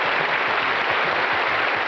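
At the close of the Going for Gold game show, a studio audience applauds loudly and continuously, with dense clapping filling the space.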